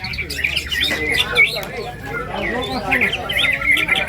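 Chirpy, warbling white-rumped shama song with whistled notes and squawks, fairly close, steady over a background of crowd murmur and faint talk at a songbird contest in Indonesia.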